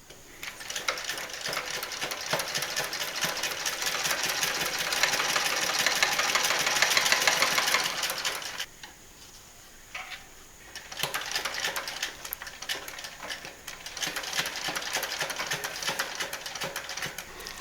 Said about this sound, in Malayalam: ഇത് നമ്മുടെ സാധാരണ ഓർഡിനറി മെഷീനിൽ എങ്ങനെയാണ് സ്റ്റിച്ച് ചെയ്യുന്നതെന്ന് നോക്കാം.